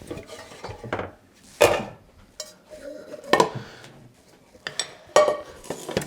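Ingredients for chicken noodle soup, a whole onion and chicken among them, go into a cooking pot with irregular clanks and knocks of pot, lid and utensils, several loud close thumps among softer handling noises.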